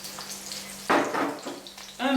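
Garlic sizzling in hot oil left in the pan after cooking aubergine, a steady quiet fry broken by a louder burst near the end as more goes in.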